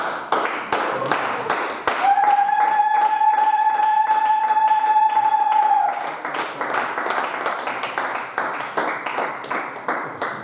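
A church congregation claps rhythmically while acclaiming the Lord, with steady loud hand claps throughout and a sustained high tone ringing over them for a few seconds.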